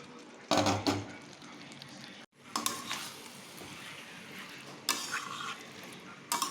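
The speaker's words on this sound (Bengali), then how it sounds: "এইবার ম্যারিনেট করা চিকেন আর ভাজা আলুটা আমি এই গ্রেভির মধ্যে আস্তে করে" A spoon stirs marinated chicken and fried potato into a simmering gravy in a pan, giving a few distinct scraping bursts over a steady low sizzle.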